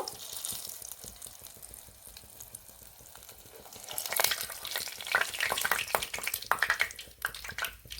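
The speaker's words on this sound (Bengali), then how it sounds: "এভাবে আমি আরো একটা ভেজে দেখাবো একটু লাল লাল করে ভেজে নিতে হবে" A potato and chowmein snack frying in a pan, the sizzle soft and steady at first, then swelling louder with bursts of crackling and spitting oil after a few seconds; no talking.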